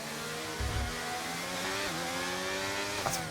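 F1 cars racing around the Monaco circuit in a video game, a continuous high-pitched engine whine with gear-shift pitch drops and a brief low thump, no talk.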